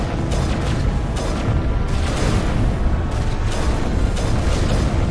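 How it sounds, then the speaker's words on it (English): Explosion in the Mass Effect video game, a dense, continuous booming roar with repeated heavy blasts, loud and close throughout. "Okay, that's exploded."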